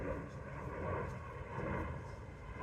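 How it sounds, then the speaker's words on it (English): An airplane drones faintly overhead in a steady, distant rumble, at low level throughout. "there's another airplane."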